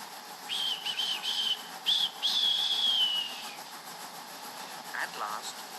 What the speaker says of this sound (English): And he whistled very impatiently.